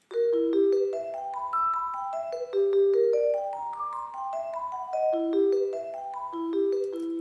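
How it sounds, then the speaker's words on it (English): A sampled vibraphone from the Orchestral Tools Berlin Percussion library plays a melodic line of clear, ringing struck bar notes that rise and fall in steady rhythm, sustaining and overlapping, alone with no talk. "So, for example, a vibraphone sounds like this."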